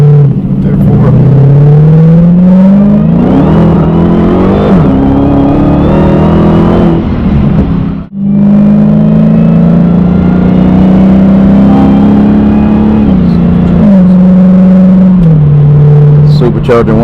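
A supercharged Hellcat revs hard and accelerates, its engine note climbing in loud sweeping pitch, dipping briefly midway, then surging again with a strong supercharger whine.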